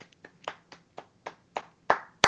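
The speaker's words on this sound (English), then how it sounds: "Applause?" A few slow, separate hand claps at a small book club gathering, about ten sharp claps in an uneven rhythm, growing louder toward the end in a quiet room.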